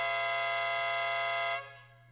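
A loud, steady upgraded horn on a 2015-2023 Ford Mustang (S550) blares for about a second and a half from 10 feet away, then cuts off, leaving a fading echo.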